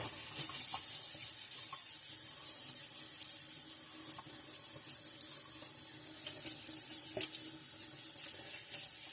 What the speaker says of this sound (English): You gotta get your scrubby right here, and we're gonna scrub.